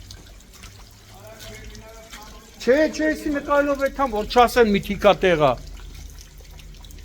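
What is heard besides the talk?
sewage water gushing from a damaged outdoor pipe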